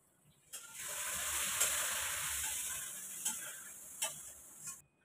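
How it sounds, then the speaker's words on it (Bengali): Water hits hot fried spice masala for a green chilli curry, bursting into a loud, close hissing sizzle that holds for several seconds, with a few sharp clicks of utensils before it cuts off. "এবার আমি আন্দাজ মতো জল দিয়ে দেবো"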